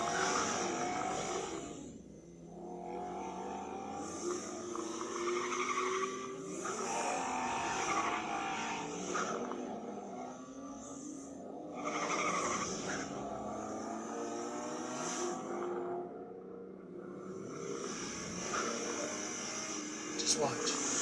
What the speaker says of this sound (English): How about in the first ever BMW M2?